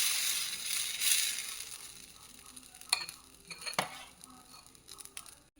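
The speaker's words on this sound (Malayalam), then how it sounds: "ഇനി കടുക് വറുത്ത പാത്രത്തിലേക്ക് തന്നെ നമ്മൾ സിമ്മാക്കിയിട്ട് നമ്മുടെ ദോശ ഒഴിക്കാം." Dosa batter poured into a pan still holding fried mustard seeds and left on low heat, giving a soft continuous sizzle and hiss with a few sharp scraping or clinking knocks near the end, close by and without talking.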